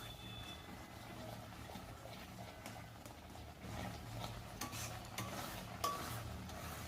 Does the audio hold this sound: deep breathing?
no